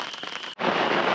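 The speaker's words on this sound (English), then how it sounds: "the rain is picking up" Rain falling during a thunderstorm at a campsite, a steady dense hiss of drops that cuts out briefly midway, then returns louder and heavier, close and continuous.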